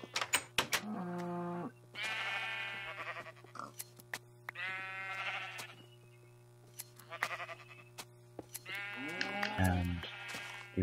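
Several loud, drawn-out bleats from Minecraft sheep on Xbox come one after another at a steady pace, each a wavering nasal call, with short clicks between them over a constant low hum.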